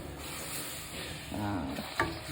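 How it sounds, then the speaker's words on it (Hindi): Spoon stirring semolina upma in a pan as beetroot curd water goes in, a soft wet scraping and sizzling that swells in the middle of the clip and ends in a sharper clack, with no talking. "ओके, अब इसको हम मिक्स करेंगे।"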